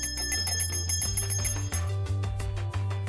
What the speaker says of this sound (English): You could add a motor shield and ring a real bell.